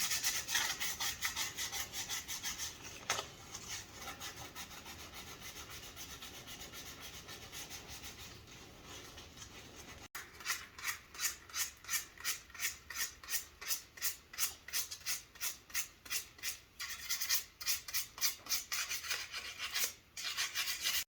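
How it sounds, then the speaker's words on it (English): Hand sanding to soften wood edges, first a continuous rough rubbing, then rhythmic back-and-forth strokes, close and steady with no talking. "So we'll soften these edges and then we'll get to the hand sanding."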